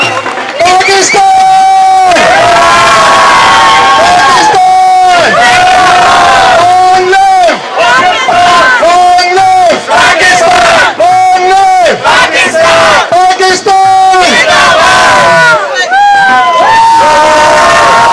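Large crowd roaring and chanting for Pakistan at the Parade of Flags during Cleveland One World Day, loud repeated surges of cheers and whoops in rhythmic bursts, sustained throughout.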